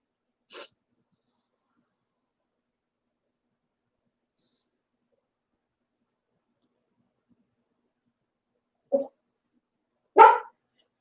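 An older dog indoors gives a short, sharp sound, then falls quiet for a long stretch before two quick barks close together near the end.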